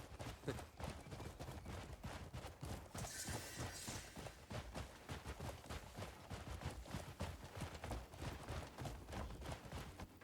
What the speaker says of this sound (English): The horses feel okay to ride.